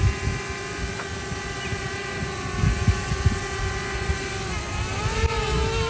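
A camera drone descends to land beside Lake Garda at Lazise, Italy, its steady whining motor hum with shifting harmonic tones rising in pitch near the end, heard over constant wind rumble.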